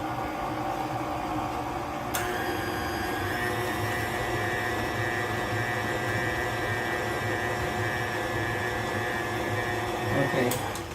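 KitchenAid stand mixer with a side-scraping beater blade creaming butter and sugar for sweet potato pound cake batter, a steady loud motor whir with a high whine running continuously, shifting pitch briefly near the start and end.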